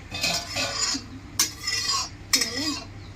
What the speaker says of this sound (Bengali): 2টো তেজপাতা দেবো, শুকনো লঙ্কা দেবো। দিয়ে একটু ভেজে নিয়ে, হালকা করে একটু ভেজে নিয়ে